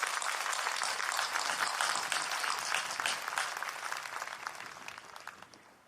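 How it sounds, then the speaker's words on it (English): A commencement audience applauds a graduate and her family at a university fall ceremony, sustained dense clapping from a large crowd that gradually tapers off. "Let's give Maisha and her family another round of applause."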